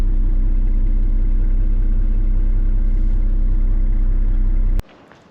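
A Volvo A25C haul truck's diesel engine idles right after starting, a loud, steady low rumble heard close up, cutting off abruptly near the end.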